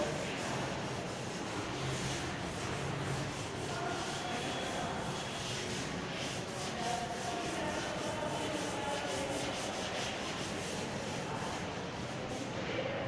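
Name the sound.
erasing a written classroom board by rubbing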